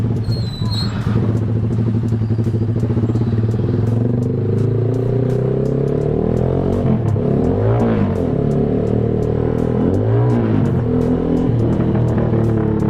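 A Z200-series motorcycle fitted with a loud Austin Racing exhaust is ridden close by, with a harsh, rumbling engine note that rises and falls through repeated revs and gear changes, loud and continuous.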